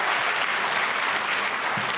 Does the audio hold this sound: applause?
yes